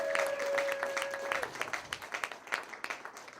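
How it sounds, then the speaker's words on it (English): Audience applause and clapping at a live lounge show, a dense burst of many hands that thins into scattered individual claps toward the end, with a steady tone sounding briefly at the start. "Give yourself a round of applause again, because I love the sound of clapping."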